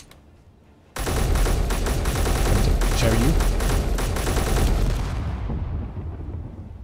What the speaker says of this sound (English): There you go. It exploded, but it didn't do any damage because it got destroyed instead.